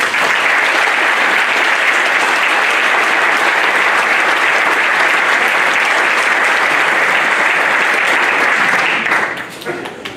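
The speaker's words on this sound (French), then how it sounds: "Et je vous demande par vos applaudissements d'applaudir l'ensemble de nos services." Loud, sustained clapping from a crowd at a municipal address honoring the town's services, steady for about nine seconds before abruptly tapering off.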